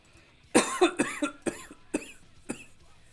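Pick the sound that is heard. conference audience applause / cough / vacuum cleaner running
cough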